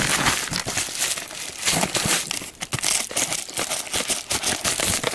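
A Goodwill shipping package being opened, loud close crinkling and rustling of plastic packaging in quick continuous bursts with a few tearing crackles.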